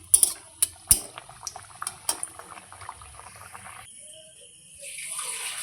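Kachori frying in hot oil, one dropped in with a splash, followed by crackling, bubbling sizzle with scattered sharp pops and clinks of utensils. Near and steady, with no talking.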